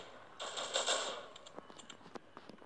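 Gunfire in the mobile shooter Critical Ops, a short sharp burst followed by scattered, fainter single shots and clicks, with no talk over it.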